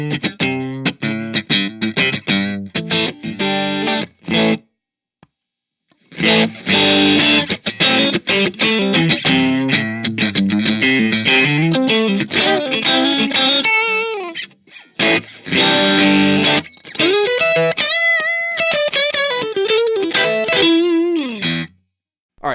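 Electric guitar playing chords and single-note runs through a Bad Cat Hot Cat 45W EL34 tube amp head and matching 2x12 cabinet, clean tone, fairly loud, with brief pauses between phrases and some grit on the tone.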